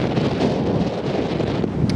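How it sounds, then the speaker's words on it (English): Strong wind buffets the microphone in a steady, loud roar, rumbling and gusting without a break, out on open plains in Serbia. "it suddenly became a lot more windy"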